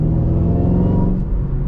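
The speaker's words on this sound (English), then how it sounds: "But then with that, you lose that supercharger and oh, it's back. Even low revs like that." A 2014 Shelby GT500 on its stock exhaust held at low revs, a steady close engine rumble with a faint supercharger whine layered on top, dipping briefly before settling back.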